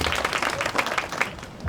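A studio audience claps loudly and steadily for a short burst as a show of votes during a quiz-style community session, dense and continuous with no talk over it.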